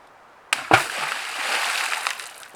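An object dropped into water to mimic an asteroid striking the ocean and raising a mega tsunami, with a sharp close splash followed by a few seconds of sloshing and spreading water.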